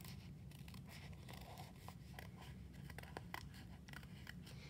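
Scissors snip through folded paper along drawn lines in a steady run of short crisp cuts, close up and fairly quiet, with no voices.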